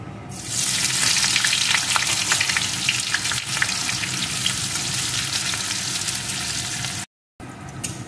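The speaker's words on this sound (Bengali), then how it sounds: "এখন এর ভিতরে দিয়ে দেবো একটা ছোট সাইজের পেঁয়াজ কুচি।" Chopped small onion dropped into hot oil with tempered spices for a soybean ball curry, a loud, steady sizzle that flares up after a quiet start and runs unbroken, cut off briefly near the end.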